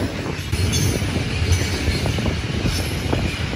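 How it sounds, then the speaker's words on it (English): A long iron ore train rumbles past nearby in Nouadhibou, Mauritania, steady grinding wheels and rattling cars with occasional metallic squeals, loud and continuous. "It's the iron ore train."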